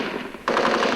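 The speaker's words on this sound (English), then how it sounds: "American Bradleys firing 25mm cannons." Rapid bursts of 25mm cannon fire from American Bradley fighting vehicles during intense urban fighting in Karbala, Iraq, loud and sharp, starting abruptly midway and continuing in a fast, steady rhythm.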